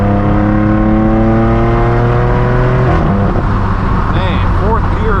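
A straight-piped, Gintani-tuned BMW M4 F82 pulls hard through the gears on a highway, its loud droning exhaust note climbing, dropping at a shift, then rising again with whine and crackle, heard from inside the car.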